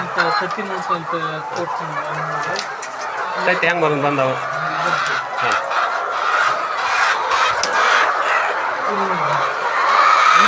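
Egg-laying hens cluck steadily across a poultry farm, a busy layer of fowl calls running throughout while someone talks over them.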